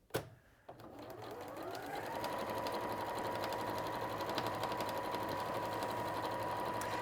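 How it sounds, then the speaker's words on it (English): A sewing machine stitching through layered fabric for a bag, starting with a couple of clicks, then settling into a steady, fast, even hum that runs alone at moderate volume. "Sewing machines these days are so robust that quite often they'll cope with things without having to always change things."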